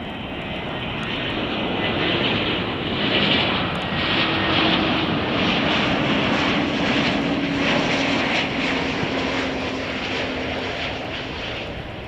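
A Spirit Airlines Airbus A320 jet landing at Chicago O'Hare at night: a loud, steady engine roar that builds, holds close by and slowly eases off over twelve seconds.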